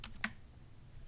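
A short burst of typing on a computer keyboard while entering an Excel formula, a couple of quiet, close key clicks with one slightly firmer tap, alone against a faint room hum.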